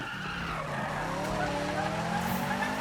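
In the Need for Speed video game, played on a Thrustmaster T500RS wheel and pedals, a car's tires squeal steadily as it skids around a corner, with the race engine droning loudly underneath the whole time.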